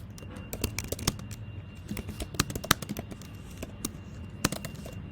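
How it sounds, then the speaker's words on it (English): Keystrokes on a computer keyboard during a live programming session, a sparse, uneven run of soft, close clicks and taps at a quiet level with no talk over them. "you can see I'm using a keyboard only at the end of each prompt"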